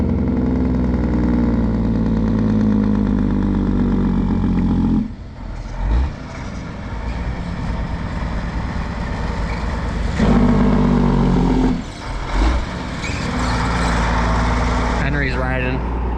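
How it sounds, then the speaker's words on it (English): A Freightliner truck's diesel engine runs loud and close throughout, with a deep steady rumble that briefly dips twice before picking back up, and voices are faintly heard over it. "Now we're gonna take the Freightliner up there."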